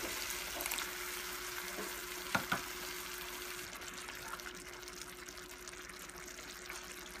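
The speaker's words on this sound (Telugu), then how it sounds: "దీంట్లో కొంచెం వాటర్ యాడ్ చేసుకుందాం." Onion curry cooking in a pan after water is added, a quiet continuous sizzle and simmer with two sharp utensil clinks partway through and no talking.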